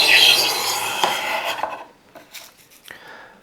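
A card scraper rasps across wood, stripping a factory-applied polyurethane finish in a loud, continuous scraping stroke that tapers off into lighter, intermittent scrapes.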